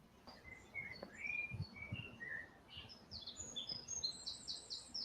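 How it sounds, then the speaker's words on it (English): Small birds chirp and tweet repeatedly outdoors, short high calls coming in quick bursts and growing busier toward the end, over a low rumbling background. "Shut that damn bird up."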